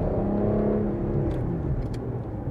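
A Porsche Cayenne 3.6 turns during a test drive, its engine giving a steady low rumble and whir from inside the cabin that eases slightly through the manoeuvre.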